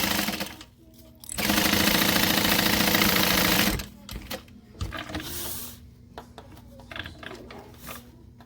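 A sewing machine stitches a slip pocket seam in one loud, steady mechanical run of about three seconds, then stops. Faint handling noises and brief clicks follow as the fabric is adjusted.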